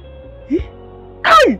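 A single sharp sneeze bursts out loudly near the end, following a short spoken exclamation in a quiet indoor setting.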